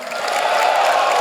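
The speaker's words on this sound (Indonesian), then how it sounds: "Kita berikan tepuk tangan." Applause from an audience at an Indonesian Perindo party event builds quickly into a steady, dense wash of clapping with light crowd noise underneath.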